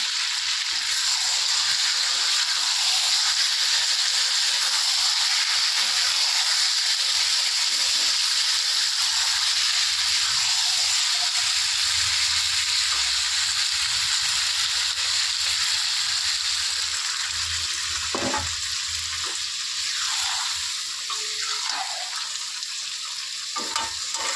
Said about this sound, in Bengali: মশলার বাটি ধোয়া জলটা এবার দিয়ে দেবো